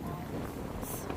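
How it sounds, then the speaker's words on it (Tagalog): Strong gusting wind buffets the microphone outdoors in a busy store parking lot during Christmas week, a steady low roar with a brief hissing gust near the end. "Oh, Grabe ang hangin."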